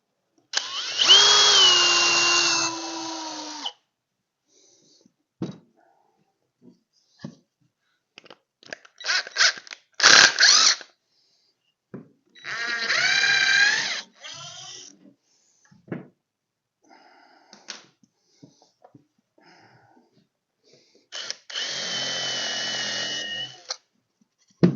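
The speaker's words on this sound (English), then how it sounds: "But I am going to pre-drill" A power drill pre-drills holes in a wooden kids' airplane rocker: several loud whirring bursts of a few seconds each, separated by quiet gaps with brief knocks and handling clatter.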